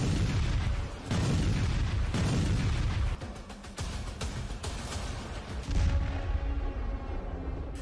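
Gunfire and heavy explosions from a Pakistani army live-fire drone combat exercise boom and crackle in dense, continuous rolling bursts, loud and reverberant across the whole stretch.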